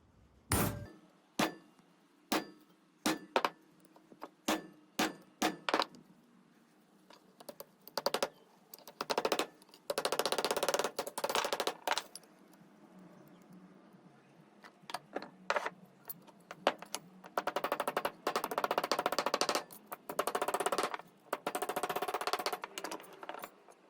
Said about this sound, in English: I chisel in the main vein with a dull chisel